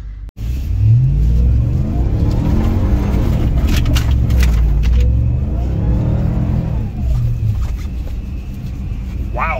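A Ram TRX pickup revs hard while attempting a donut in deep, frozen snow. The engine roar is loud and close, swelling and falling almost continuously throughout.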